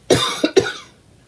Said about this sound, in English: got this weird little cough thing going this morning